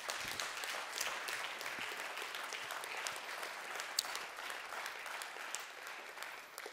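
An audience applauds in memory of Joseph Calderoni, a sustained, fairly faint patter of many clapping hands that stays even and slowly tapers toward the end.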